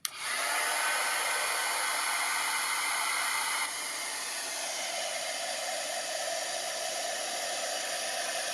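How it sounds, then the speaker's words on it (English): An embossing heat tool blows a steady, loud hiss of hot air while melting embossing powder, its tone dropping slightly partway through and continuing alone without talk. "So I'm just melting the embossing powder, that is pretend heat and stick"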